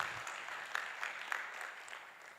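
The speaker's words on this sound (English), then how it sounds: "A round of applause for Mr." Audience at a company directors and secretaries conference applauding, a steady even patter of many hands at moderate level with a few sharper claps standing out, no voices over it.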